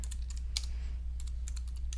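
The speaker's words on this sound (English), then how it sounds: "I can just begin typing." Rapid, uneven keystrokes on a computer keyboard while typing text into a design program, close and distinct in short bursts with brief pauses, over a steady low hum and no talk.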